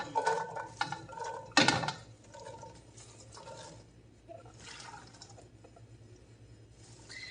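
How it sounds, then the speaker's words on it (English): Fresh garden green beans tumble into a wok in a home kitchen with a brief clattering rattle, followed by a few lighter taps and faint shuffling against quiet background hum. "I'm going to put my green beans in it."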